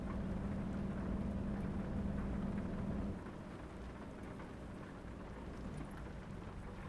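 Steady rain hisses over a low rumble while driving in American Truck Simulator, a dense broadband wash that is heavier at first and then settles to a softer, continuous patter for the rest.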